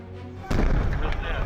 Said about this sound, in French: D'autres obus tombent de plus en plus près de nous et les militaires nous ordonnent de prendre refuge derrière un char blindé.